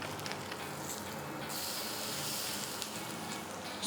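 A whole branzino, about one pound, sizzles steadily on the grill as it is flipped, a broad continuous hiss that swells brighter partway through, with no voices.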